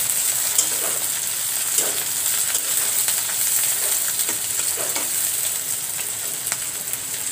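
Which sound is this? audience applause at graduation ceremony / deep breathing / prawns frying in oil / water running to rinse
prawns frying in oil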